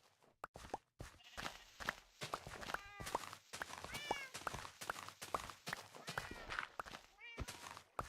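Repeated meows from a crowd of Minecraft cats in a cat cafe mix with rapid in-game footsteps. The calls overlap at a busy pace, and someone speaks briefly over them.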